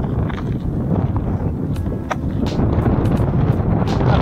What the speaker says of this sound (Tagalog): Sa sobrang lakas ng hangin, mahirap sakayan yung bisikleta.